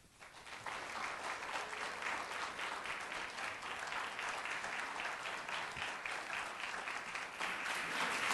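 Sustained audience applause for musicians at a philosophy-week music event, a dense steady wash of many hands clapping that swells in after a brief quieter start and holds evenly to the end.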